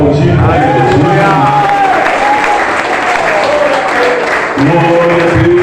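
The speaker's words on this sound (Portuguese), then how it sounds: "Vamos aplaudir." A church congregation bursts into sustained applause with some cheering, loud and dense throughout, and voices are mixed in with the clapping.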